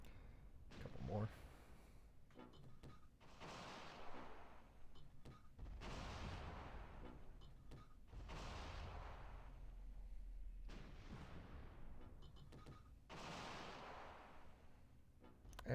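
Mortar rounds from Close Combat, a wartime strategy game, land in a series of about five broad, rumbling blasts spaced a few seconds apart, each swelling and fading under continuous low battlefield noise.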